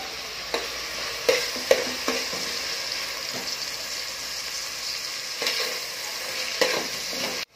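Chopped tomato sautés in a pan for a Maharashtrian bean curry, a soft steady sizzle broken by repeated scrapes and taps of a spoon as it is stirred.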